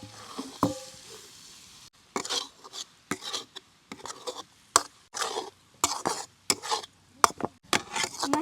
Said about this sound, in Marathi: हळद पावडर आता मस्त पैकी हलवायचं